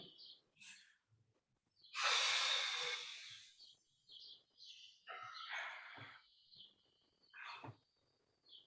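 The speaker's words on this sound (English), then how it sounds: "Make sure you're breathing." Heavy breaths during a Pilates reformer workout, one long loud exhale followed by several shorter huffs and sighs, close and irregular, with no talk.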